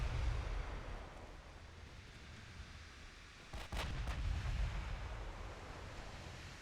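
Naval gunfire in the warship battle game Ultimate Admiral Dreadnoughts: a steady rumbling roar of distant shelling and sea, broken by a sharp gunshot crack midway.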